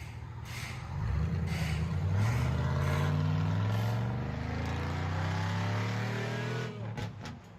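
A big Cadillac Escalade SUV engine with dump exhaust roars to life and revs hard, its rumbling pitch climbing and falling as the vehicle pulls away, ending with a few sharp clicks.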